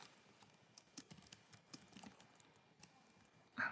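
Fingers tap a computer keyboard in short, irregular bursts of clicks, close but fairly quiet, ending in one louder clack, with no talking.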